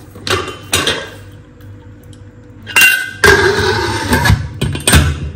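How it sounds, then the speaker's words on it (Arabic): A metal pressure cooker lid being set and locked onto the pot holding meat and chermoula in a home kitchen: several sharp metallic clinks and clanks in bursts, close and fairly loud, with no talking. "غادي نسد على طنجرة الضغط"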